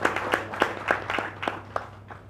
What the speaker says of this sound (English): I think you clap louder for her.